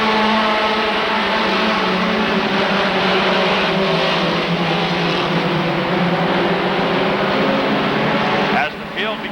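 Race cars roar around the oval at Rockford Speedway, a loud, continuous engine drone from the field running together, with an announcer talking over it throughout.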